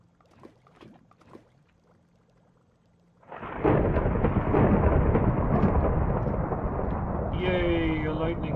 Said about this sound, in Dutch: Yay, a lightning storm.